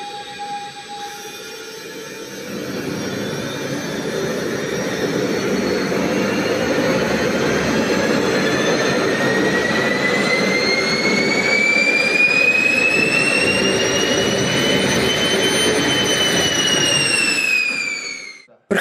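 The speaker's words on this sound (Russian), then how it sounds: "Проходящие испытания «Калибри» – самый первый и самый маленький в линейке малоразмерных газотурбинных двигателей" The Kalibri small gas turbine engine runs at idle on a test stand, a loud, continuous roar with rising and gliding turbine whines that builds, holds for many seconds, then stops abruptly.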